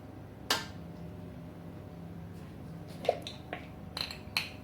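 Measuring spoon lightly clinking against a container while ground coriander is added for a mutton qorma, a few sparse, faint metallic taps in a quiet kitchen.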